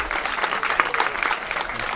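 An audience at a podium ceremony for the 4H Yamaha 2018 race claps in a dense, moderately loud patter of applause that carries on steadily, with faint murmuring mixed in.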